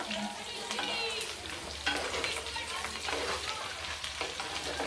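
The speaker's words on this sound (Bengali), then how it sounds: "এই যে মাটির হাঁড়িতে রান্নাটা করছি আমি" Food fries in a clay pot over high heat, sizzling steadily and loudly while it is stirred and scraped, with no voices.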